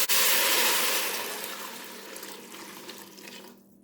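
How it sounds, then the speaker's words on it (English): Water and chicken broth pour steadily into a Ninja Speedi cooker, a loud rushing splash at first that gradually softens and thins before stopping near the end, no voices. "I've got 1½ cups of water and 1½ cups of chicken broth"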